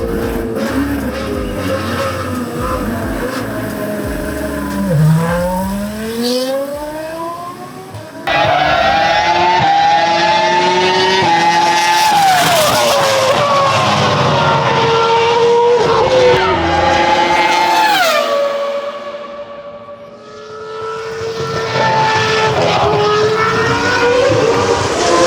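A historic race car on a circuit roars past in repeated loud passes, engine pitch rising and falling sharply as it accelerates, shifts and fades away between laps.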